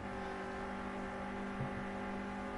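Race car engine at Oulton Park in Project Cars, a constant faint high-revving drone held nearly flat out with a brief tyre scrub partway through, no voices.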